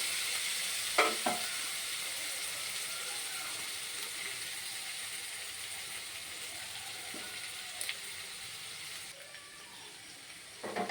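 Soft, steady sizzle of food frying in a pan on the stove, with a few brief scraping knocks as it is stirred now and then.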